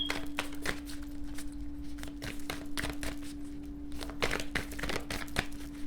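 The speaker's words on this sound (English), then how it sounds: "I'm going to get one more shuffle in." Rapid crisp riffling and snapping of cards in repeated bursts, close and fairly quiet, with a steady low hum underneath.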